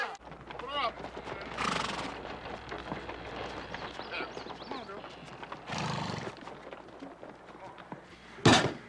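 A horse gallops with rapid hoofbeats and sharp whinnies during a frontier battle scene set at the Alamo, the riding loud and close amid other busy sounds, with a louder burst near the end.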